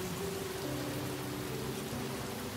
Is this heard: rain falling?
yes